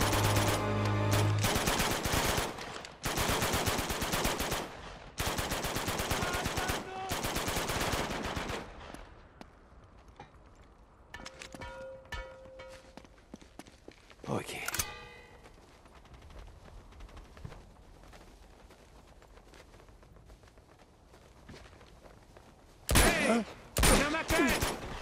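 Bursts of automatic gunfire in Uncharted 2: Among Thieves, loud, close and rapid, repeating in long strings for several seconds. After a quieter stretch with scattered shots, the firing returns in sharp bursts near the end.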